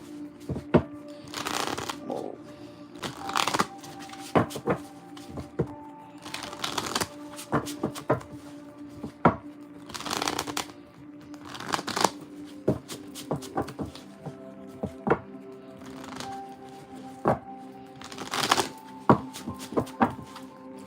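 A worn deck of cards is riffled and bridged again and again, giving repeated bursts of crisp fluttering snaps with soft taps between them, close up over quiet background music.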